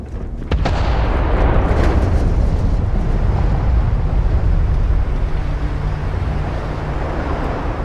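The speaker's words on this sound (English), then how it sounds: "Detonation in 5, 4, 3, 2," A detonation explosion hits with a sharp, loud blast after half a second of quiet, then becomes a heavy, sustained roaring rumble that fills the rest of the clip without fading.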